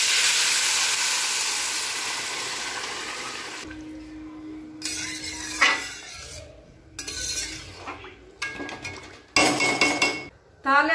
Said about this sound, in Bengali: তো এবার জলটা আমি দিয়ে দিব।